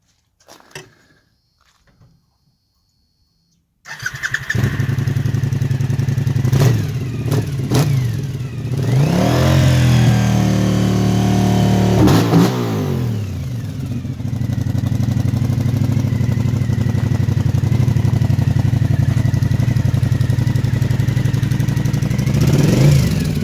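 After a few seconds of near silence, a reverse trike engine with baffles fitted cranks and fires, then roars loudly, revving up and down before settling into a rough, heavy idle.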